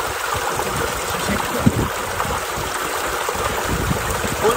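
Icy, clear mountain stream water flows steadily in Ziarat, Balochistan, a continuous broadband rushing and gurgling close by that fills the whole clip without a break, with no talking heard.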